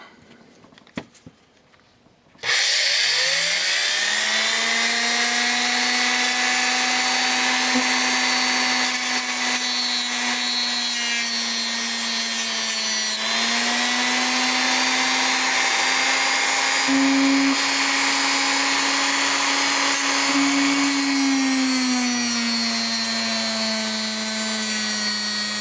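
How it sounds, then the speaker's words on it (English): A Dremel rotary tool grinds down the center pin of an RF connector, spinning up after a brief quiet start into a loud, steady high-pitched whine that shifts slightly in pitch as load changes, with no talking. "the center pin on our new connector won't actually fit, so I'm going to have to Dremel it down a little bit"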